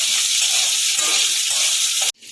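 Potatoes sizzle steadily in a little oil in a pan, a loud, close, continuous frying hiss that cuts off abruptly near the end, with no talk over it.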